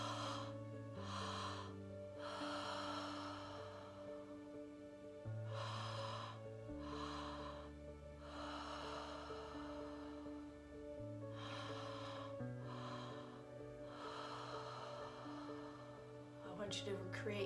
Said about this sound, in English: Take a deep inhale into your belly and then your chest